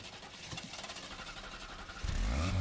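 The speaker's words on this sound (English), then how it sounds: "Start the engine, please." A car engine in The Grand Tour Game video game cranks and catches after about two seconds of quieter background, then settles into a loud, close, steady running rumble.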